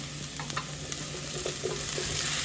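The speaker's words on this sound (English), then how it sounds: "Just gonna let that saute this for like a minute or two." Bell pepper sautéing in a hot pan for seasoned rice, a steady low sizzle with a few soft scrapes and stirring clicks, close and continuous with no talking.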